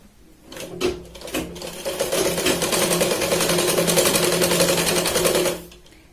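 A sewing machine runs a long continuous stitching pass along a katori blouse seam, starting with a few short bursts before settling into a steady, close mechanical whir that stops cleanly at the end.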